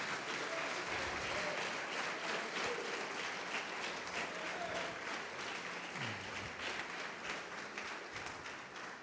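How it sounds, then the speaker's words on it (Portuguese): A church congregation applauds during a sermon, with sustained, dense clapping from a large group filling the room at a steady level throughout, and faint voices mixed in beneath it. "Vamos aplaudir o Senhor,"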